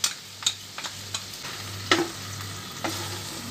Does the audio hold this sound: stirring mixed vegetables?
yes